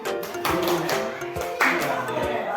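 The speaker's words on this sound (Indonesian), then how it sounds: "Kita kasih apresiasi dengan tepuk hebat." A group at a school meeting does the 'tepuk hebat' clapping cheer, with rhythmic patterned claps in quick bursts under voices chanting along, near and fairly loud.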